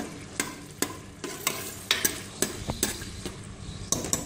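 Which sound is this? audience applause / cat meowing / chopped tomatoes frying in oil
chopped tomatoes frying in oil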